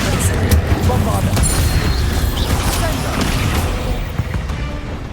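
A Bombarda blast spell in Hogwarts Legacy, a dense rumbling explosion with low booming weight and scattered crackle, loud and sustained, with spell calls spoken over the game audio.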